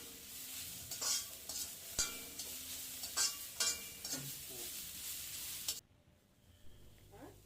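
Grated beetroot sautéed in a pan, with steady sizzling and repeated scraping stir strokes for most of the clip before the sound abruptly drops to a quiet tail.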